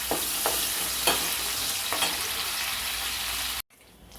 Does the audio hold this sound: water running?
no